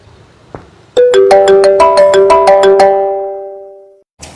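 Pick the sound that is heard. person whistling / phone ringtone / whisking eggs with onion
phone ringtone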